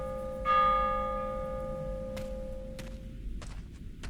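Bells in a puzzle in the Prophecy horror game demo: a bright bell strike rings out with a long sustained tone that slowly decays, followed by a few soft thumps near the end.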